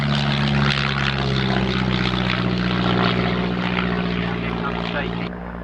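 A propeller aeroplane flies at the Shuttleworth evening air display, its engine a loud, steady droning buzz that holds throughout and eases slightly at the end, with an announcer talking over it.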